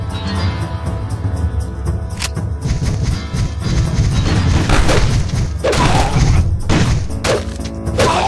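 A grenade explodes in the Nintendo 64 shooter Turok: Dinosaur Hunter, heard as dense, loud game audio with several heavy booming thuds and crashing bursts, without speech.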